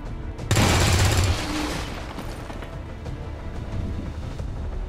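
Gunshots in XCOM 2 as a sudden loud burst of rapid gunfire near the start, lasting about a second, then fading into a low rumbling tail and quieter background.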